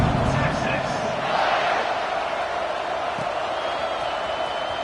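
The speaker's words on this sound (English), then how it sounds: "this crowd is buzzing after that last score" Stadium crowd buzzing after a score during a College Football 26 game, a steady dense roar throughout with a commentator's voice talking over it.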